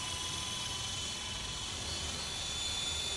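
A helicopter flies with a steady, droning rotor and engine hum, a constant mid-level noise with a high whine running through it and no talk.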